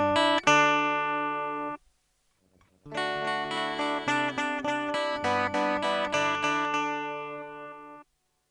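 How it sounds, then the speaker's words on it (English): A short tonal musical phrase plays cleanly and stops, then after a brief silence the same phrase returns processed with a simple digital echo, its notes smearing into repeated overlapping copies before ending. "Acoustically, a simple echo sounds like this."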